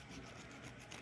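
A file rasping across the flat edge of a small copper pipe ring to clear burrs, giving a faint, steady scraping stroke heard close up with no talk.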